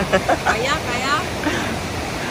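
Strong, rushing water on the Nakatsugawa river roars as a steady, loud broadband wash, with a voice briefly audible near the start.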